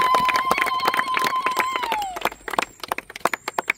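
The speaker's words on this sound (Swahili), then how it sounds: "Makofi kwa Bwana Yesu tena" Church congregation breaking into applause, a burst of scattered, sharp claps following a voice and a sustained tone, the clapping thinning into separate loud claps toward the end.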